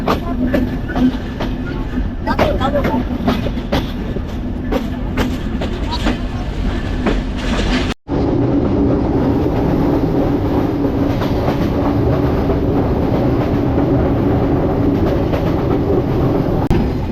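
A train enters Jessore Junction railway station, heard from on board as a loud, steady rumble of wheels and carriages with clattering rail joints, broken by a very brief dropout midway.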